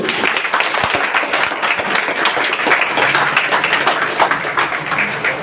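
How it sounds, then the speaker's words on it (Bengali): Steady, loud applause from an audience at a business presentation, many hands clapping continuously throughout without pause. "আরেকবার জোরদার হাততালি"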